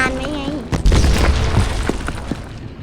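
Explosion in a tank battle video game: a loud, near boom bursts out and rumbles on for about two seconds, with people talking over it in Thai.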